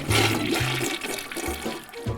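A toilet flushes and water drains away in a cartoon, a loud continuous rush with repeated low gurgling pulses and no talk.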